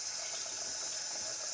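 Tap water runs steadily from a faucet at a sink for hand washing, a continuous bright hiss with no talking.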